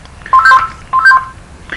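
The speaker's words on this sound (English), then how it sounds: "That's my phone, but I'll get to it in a wee minute." Telephone ringing, two short warbling electronic trill bursts separated by a pause, close and fairly loud, with a brief voice at the end.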